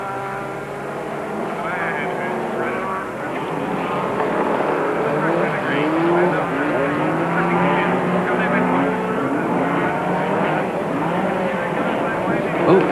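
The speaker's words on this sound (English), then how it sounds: "these big super trucks are really a handful when they go slip-sliding all over the place" Big super trucks race and slide across a slippery, watered dirt track, engines roaring continuously with loud revving swells and tyre noise throughout, while a commentator talks over the action.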